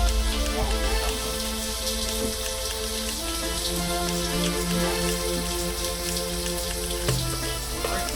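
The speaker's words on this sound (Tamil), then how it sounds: "இன்னைக்கு மழை நிக்காம பேஞ்சிட்டே இருக்குங்க, செமையா." Heavy monsoon rain pours onto a Kerala houseboat in Alleppey, a dense continuous patter of drops on surfaces with faint tonal hums beneath, steady throughout.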